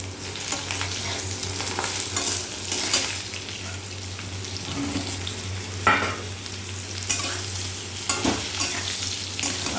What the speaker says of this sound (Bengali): পরোটা তবুও কড়া ভাজাই হয়ে গেল।